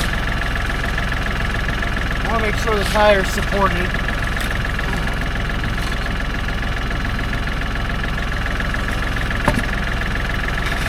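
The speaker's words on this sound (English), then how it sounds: "it's going to be noisy, unfortunately, with the tractor running" A farm tractor's engine idles steadily and loudly throughout, with a constant low rumble and mechanical knock under someone talking nearby.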